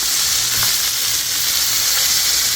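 A burger patty for a copycat Wendy's Double Baconator sizzling loudly on a griddle after a flip, a dense continuous crackle with a faint scrape near the start and no speech.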